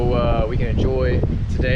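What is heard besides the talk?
wind blowing on the microphone outdoors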